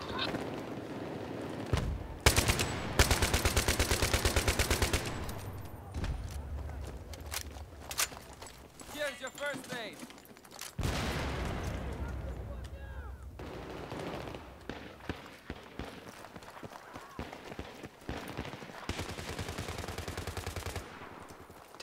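Rapid gunfire bursts and single shots in a Battlefield 3 team deathmatch on rooftops, loud and close, with bursts repeating across the stretch and players talking over the shooting.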